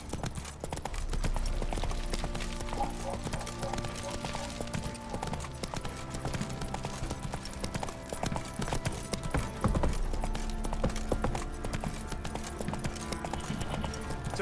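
Horse hooves clip-clop steadily on the ground in The Witcher 3, a continuous rhythmic trotting under a low ambient game backdrop, with no talking.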